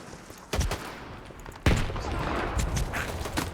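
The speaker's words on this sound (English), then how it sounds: "There's a lot of shooting though, jeez." Bursts of gunfire in the video game S.T.A.L.K.E.R. 2: a sharp volley followed by a louder, longer crackle of shots with rolling echoes, mid-distance and fairly loud.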